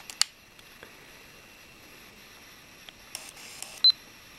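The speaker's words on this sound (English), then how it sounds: "immediately we take the shot without putting too much pressure on the shutter button" A camera shutter clicks sharply a few separate times in a quiet room, with a short electronic beep near the end.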